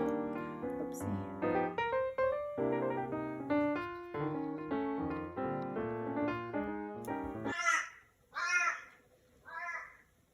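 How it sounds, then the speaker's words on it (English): A crow caws three times toward the end, loud, harsh and fairly close, each call separated by a short pause, after a stretch of layered tonal sound with no talk. "Oh, there's a crow."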